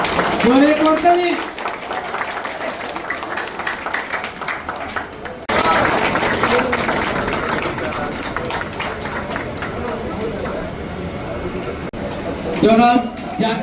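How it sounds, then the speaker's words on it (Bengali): Applause from an audience at a market committee introductory meeting, clapping loud and close at the start and again near the end, with a crowd murmuring and talking throughout. "জোরে করতালি।"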